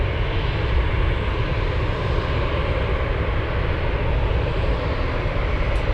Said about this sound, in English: Where's the 747 going today? We have this one flying to Los Angeles